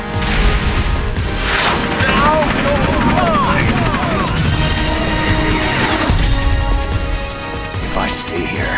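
Hind attack helicopter in the video game Metal Gear Solid: The Twin Snakes, rotor drone under bursts of gunfire, crashes and impacts, loud and busy with swooping effects and game music throughout.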